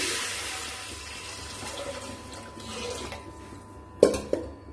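Water is poured into a pan of heated oil while making lemon rawa pulihora, a steady rushing splash that gradually eases, followed by two sharp metallic clinks of the vessel near the end.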